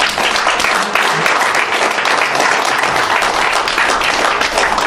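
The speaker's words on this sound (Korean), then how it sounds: "우리 정 박사님께 뜨거운 박수 한번 해주십시오." An audience at a Korean international diplomacy and security forum applauds loudly and continuously. Thick overlapping claps fill the room at an even, sustained level throughout.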